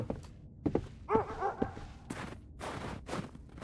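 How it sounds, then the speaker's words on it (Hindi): A dog barks a few times at night, sharp, brief yelps somewhat distant, mixed with thumps and footsteps nearby. "कुत्ते की भौंकने की आवाज़।"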